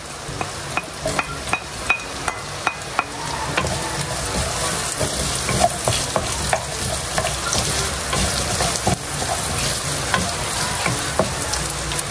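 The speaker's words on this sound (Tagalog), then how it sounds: "Ako po ngayon magigisa na po ng ricado. Akin na po ilalagay itong bawang at sibuyas." Garlic and onion sautéing in a pan as the base for a whole chicken hamonado: a steady, close sizzle with sharp clicks and scrapes of stirring throughout, no voices.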